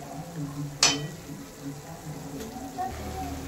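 Soybean chilli sauce with green chillies bubbles and sizzles in a pan, a soft, steady frying hiss under a voice, punctuated by one sharp clink of a utensil.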